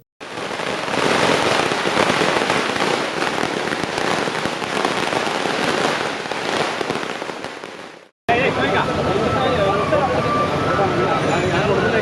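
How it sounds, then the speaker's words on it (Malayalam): A long string of firecrackers bursts in a rapid, dense crackling barrage, loud and close, at a political election victory celebration in Koothuparamba, then cuts off abruptly to a noisier, busier outdoor scene. "പായസം വിതരണം ചെയ്തും പടക്കം പൊട്ടിച്ചുമാണ് പ്രവർത്തകർ ആഹ്ലാദം പങ്കിട്ടത്"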